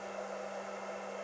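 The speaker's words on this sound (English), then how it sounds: "I'm gonna lose my hair dryer here." Hair dryer running on a portable power station, a steady, even blowing hum and hiss with no change in level over its short span.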